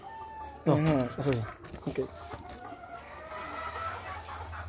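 A hen clucking in a series of loud, close, rhythmic calls at first, then quieter scattered clucks, with a person speaking briefly alongside.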